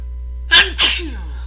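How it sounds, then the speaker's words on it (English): A single person's sneeze during a tabletop role-playing session, heard close and loud as a sharp two-part burst, a quick intake then an explosive release, against a quiet steady hum. "hang on a second, I'm gonna sneeze"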